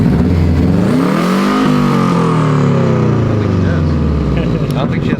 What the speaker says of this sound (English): I like your exhaust leak.